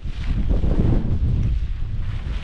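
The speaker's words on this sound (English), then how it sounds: "Well, the wind's wild, right?" Strong wind batters a stormy, wet lakeside wild camp in the Lake District, a loud, steady roar with gusts buffeting close against the microphone and no talking.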